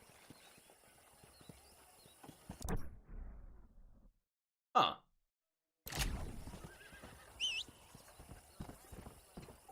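A newly acquired warhorse in Red Dead Redemption clops along with steady hoofbeats and gives a sharp whinny. A short silent gap breaks the sound, and someone briefly talks over it.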